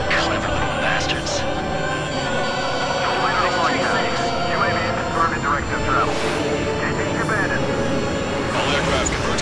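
Jet aircraft engines from the combat flight game Ace Combat 7 roar steadily throughout, a dense continuous rumble blended with layered music and effects.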